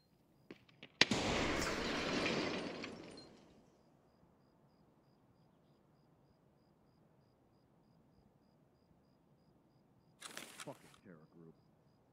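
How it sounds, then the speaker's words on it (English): A grenade blast in Escape from Tarkov bursts out loud and broad about one second in, then rumbles and fades over roughly two seconds, leaving quiet room tone with a faint, crackly burst near the end. "Grenade?"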